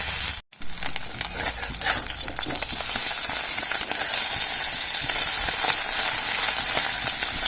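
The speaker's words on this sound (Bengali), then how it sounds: "মাছগুলো ভেজে নিচ্ছি।" Pieces of fish frying in oil for a three-ingredient fish curry, a loud, dense, continuous sizzle heard close up with fine crackling throughout and no voices.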